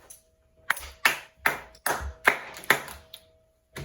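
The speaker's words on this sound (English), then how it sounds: "Clap it up for the champion." Hands clap in several sharp, separate bursts for the winner of a no-hands eating challenge, close and loud with short gaps between them.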